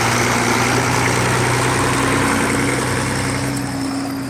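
A tractor pulling a hayride runs steadily, a continuous loud low engine drone with a broadband rumble that holds throughout and eases slightly at the end.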